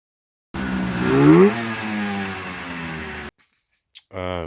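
A 1978 Kawasaki Invader snowmobile engine runs loud and close, its pitch rising as it revs, then cuts off abruptly, followed by a brief voice.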